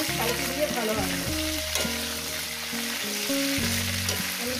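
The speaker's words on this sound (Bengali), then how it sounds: "5-6 মিনিট ধরে আমি আলুটাকে ফ্রাই করে নেব" Potatoes fry in oil in a pan over medium heat with a constant close sizzle, partly under louder background music.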